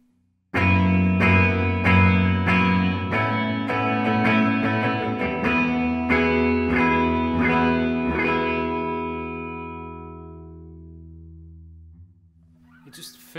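An electric guitar strums open chords with an Attak pick in a steady run of full, shimmering strokes soaked in reverb, the wash sustaining and slowly fading before a brief sound at the end.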